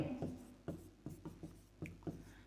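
Pen strokes on paper while working a trigonometry problem, a series of short scratchy bursts at an uneven pace, close and fairly quiet, with no talk over them.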